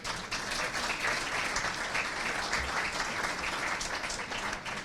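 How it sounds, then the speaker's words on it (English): Sustained applause from a sizeable crowd at a city's State of the City address, steady and dense throughout with no voices standing out. "So great round of applause for Eversource."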